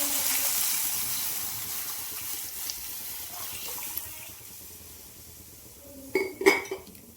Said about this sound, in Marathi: छान ढवळून घेऊया.